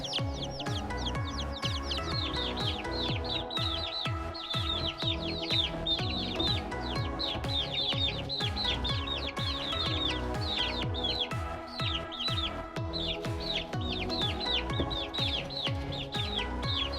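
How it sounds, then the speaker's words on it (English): Chickens and chicks cluck and peep continuously, a dense, busy flock chorus of overlapping rhythmic calls with no talking. "Chicks."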